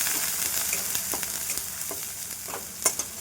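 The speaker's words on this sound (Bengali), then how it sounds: "আদাটা তেলের ওপর দিলে গায়ে ছিটকে আসবে" Ginger paste sizzles steadily in hot oil for a papaya and chickpea curry, a dense close frying hiss with a few brief spattering pops and stirring scrapes, no voices.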